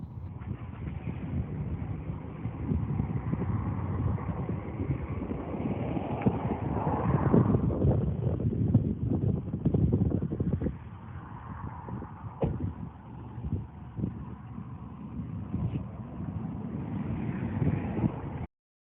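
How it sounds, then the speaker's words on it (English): Wind blowing across the waterways at Jamestown, a steady low rumble of buffeting gusts against the microphone that swells midway and then eases, continuous and close with no voices. "I was hoping you could hear some of the audio of the wind there."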